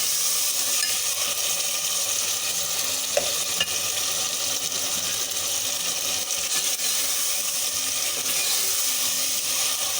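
Tomatoes, green chilies and spices sizzling in a pan for Delhi-style aloo gobi: a steady, dense frying hiss throughout with faint stirring clicks, and no talking.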